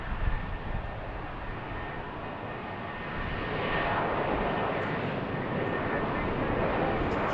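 An airliner takes off from runway 15 at BWI airport, its engine roar broad and steady, heard from a distance and swelling slightly louder partway through.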